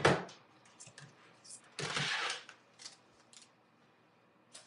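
A die-cutting machine rolls paper through a die with a short mechanical whirr and crunching pass near the middle, set among scattered handling clicks and rustles in a quiet room.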